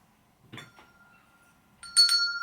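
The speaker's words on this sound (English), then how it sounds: "ringing the school bell." A short bright ring sounds near the end, after a few quieter knocks and rustles; the tone is clear and sustained.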